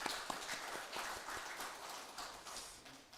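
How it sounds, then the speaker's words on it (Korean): Korean church congregation applauding together during Sunday worship announcements, a steady dense patter of many hands clapping at moderate volume with no voices over it. "박수를 한번."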